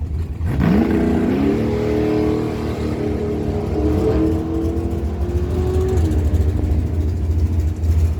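A Ford Mustang with a Chevy engine revs up and accelerates hard down a drag strip at a dragway, loud and close, with a rising engine note that then holds steady through the run.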